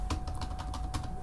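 Rapid clicking of keys on a computer keyboard during a Docker installation, a quick irregular patter of keystrokes over faint steady background hum.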